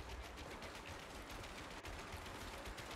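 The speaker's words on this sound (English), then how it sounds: "I hear shots in here." Gunfire in a duos battle-royale video game, a dense, steady spray of rapid shots sounding at a distance throughout, with no talk over it.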